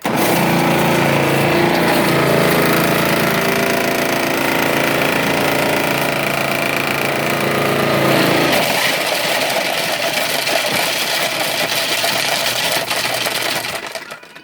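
A Cuisinart food processor motor runs loudly and steadily, whirring alone with a strained buzzing tone that shifts pitch partway through before cutting off at the end, while soap pieces are processed for homemade liquid laundry detergent.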